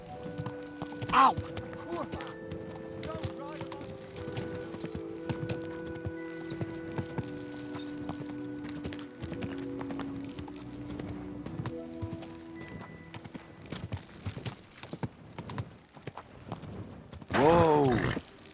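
Horse hooves in the video game Kingdom Come Deliverance 2 clop steadily at a walk over music, with a brief neigh early and another louder whinny near the end.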